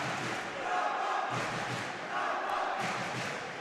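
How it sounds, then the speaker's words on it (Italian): Came Treviso futsal supporters cheer and chant for their team's pivot during a Serie A match against Roma 1927, a steady roar of massed voices in a crowd swelling in waves. "Tifosi supporters della Came incitano il pivot della propria squadra"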